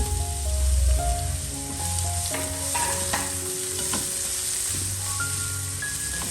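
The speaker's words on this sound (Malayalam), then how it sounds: "നമ്മൾ കട്ട് ചെയ്ത് വെച്ചിട്ടുള്ള വെജിറ്റബിൾസ് ചേർത്തിട്ട് നന്നായിട്ടൊന്ന് നെയ്യിൽ വഴറ്റിയെടുക്കണം" Chopped vegetables sauté in ghee in a saucepan with a steady, loud sizzle and occasional stirring scrapes, heard up close with no talking.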